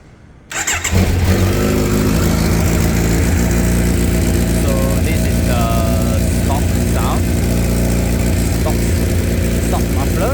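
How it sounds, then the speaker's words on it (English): Motorcycle engine fitted with an Akrapovic header and the stock muffler starts up and settles into a loud, steady idle with a deep rumble, while people talk faintly in the background. "Stock muffler and Akrapovic header."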